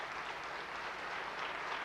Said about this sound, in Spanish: Eso merece un buen aplauso.